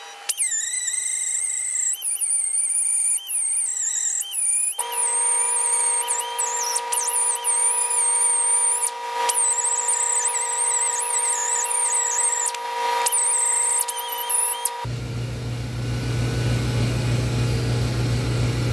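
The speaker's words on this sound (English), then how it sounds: "tedious task of sanding it down. By the way, these cheap Ampro pneumatic tools, I got these at Advance Auto Parts" A cheap Ampro pneumatic tool sanding a Cadillac 472 valve cover in the shop, loud high-pitched air-tool whine that shifts in pitch as it works, then cuts to a low rumbling noise.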